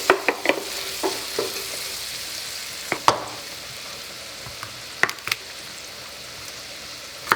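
Chopped onions fry in melted butter in a pan, giving a faint, steady sizzle broken by scattered clicks and scrapes as they are stirred.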